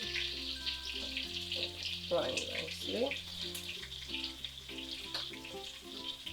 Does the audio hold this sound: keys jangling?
no